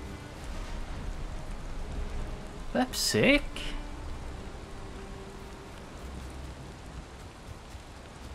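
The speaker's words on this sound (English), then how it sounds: "Hear this rain?" Rainfall in the video game Valheim, a steady soft hiss of rain throughout with a brief rising whoosh in the middle, while a man exclaims over it.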